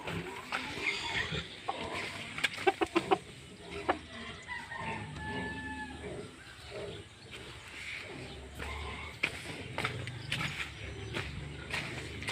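Backyard chickens clucking and calling in a pen, several short bursts of clucks and a crowing rooster heard at moderate distance over steady outdoor ambience.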